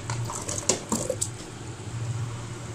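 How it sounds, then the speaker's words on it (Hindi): Spices are dropped into about half a glass of water in a cooking pot, making a few soft taps and small wet plops over a low, steady hum. "और इसमें मैं डालूंगी ये तमाम मसाला जात।"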